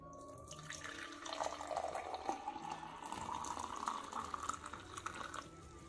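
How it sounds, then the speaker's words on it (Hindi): Water running and splashing into a container in a home, a steady close stream with a faint rising tone as the vessel fills, heard alone. "अब मैं नीचे आ गई और पानी गर्म कर रही हूँ।"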